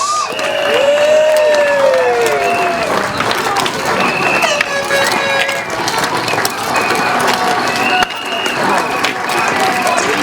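A speedway crowd cheers and claps to welcome the Isle of Wight Warriors onto the track, a loud, continuous roar of applause and shouts heard up close over ten seconds, with whistles and voices mixed in.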